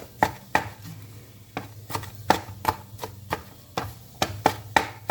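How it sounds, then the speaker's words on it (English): A knife chops spinach on a cutting board in a steady run of crisp, fairly close knocks, about a dozen over five seconds, with no talking. "Just keep chopping,"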